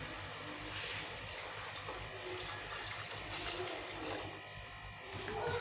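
About one and a half glasses of water poured into a pot of beef curry with fried meat and tomatoes, a steady, continuous watery rush and splash without a break, quiet and close.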